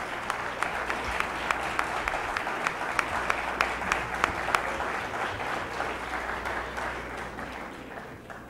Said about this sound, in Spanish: Creo que todos ellos se merecen un aplauso de todos nosotros.